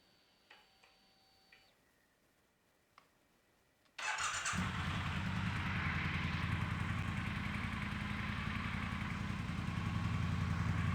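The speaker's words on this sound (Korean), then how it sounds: "순정 머플러의 배기 사운드 한번 들어보고요." 2018 Triumph Thruxton R cafe racer with its stock muffler: a few faint ticks, then the engine starts abruptly and settles into a loud, steady, close exhaust idle that holds to the end.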